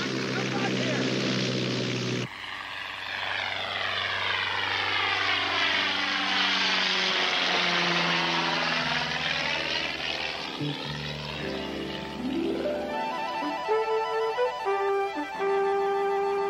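Propeller aircraft engine running, a droning buzz with sweeping pitch changes as the prop speed shifts, loud and continuous, then settling and stuttering toward the end, with people speaking at times.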